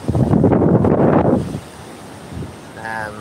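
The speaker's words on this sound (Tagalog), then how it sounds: "Oh, grabe hangin." Strong wind gusts buffet the microphone in a guarded residential area as a typhoon approaches, loud roaring rumble at first that drops away quickly, with a faint voice afterward.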